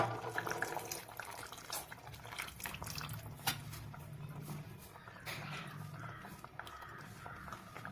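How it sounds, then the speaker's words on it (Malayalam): Coconut milk is poured into a simmering pearl spot (karimeen) fish curry, making a steady liquid pour and splash with faint bubbling throughout. Kitchen clatter sounds nearby. "നമുക്കതിലേക്ക് എടുത്തു വെച്ചിരുന്ന തേങ്ങാപ്പാൽ ഒഴിക്കാം"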